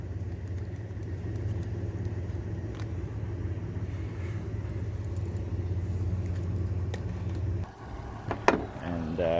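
A Rivian portable air compressor inflating a car tire to 32 PSI runs as a steady, close, droning hum for most of the stretch, then cuts off near the end, followed by a brief clatter of handling.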